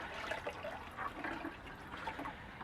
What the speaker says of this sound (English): just going to watch the bubble trap capture all the bubbles right there